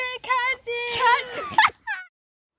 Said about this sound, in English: The dog won't be quiet.